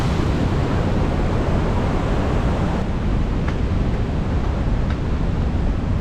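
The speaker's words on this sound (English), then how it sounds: "We out here in Zurich, Switzerland, at the biggest waterfall in Europe." Roaring waterfall near Zurich, Switzerland, billed as the biggest in Europe, a loud, continuous broadband rush of falling water with no talking and no letup.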